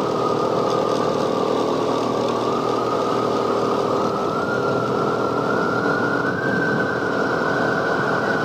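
A motorcycle engine runs hard at speed with a steady loud drone whose pitch slowly climbs as it accelerates, with constant wind roar throughout.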